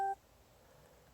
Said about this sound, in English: Sorry, Facebook notifications.